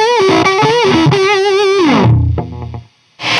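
Electric guitar lead through a Doctor Hobbitstein Eleven tube overdrive pedal: a loud, gritty lick with bent and sustained notes slides down, fades into a brief silence, then one more note starts.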